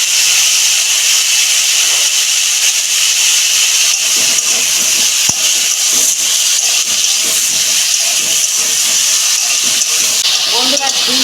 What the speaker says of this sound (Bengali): বন্ধুরা, ঝিঙে আলুটা আমার ভাজা হোক 2 মিনিট